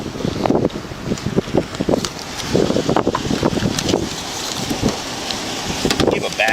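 Strong wind gusts buffet the microphone outdoors during an arrest, rumbling and uneven, while people talk underneath.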